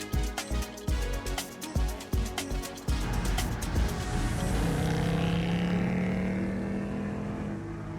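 A Ford Mustang engine at a large Mustang convoy gathering: a deep rumble with a few sharp revs, then a steady, rising drone as it pulls along, loud and close.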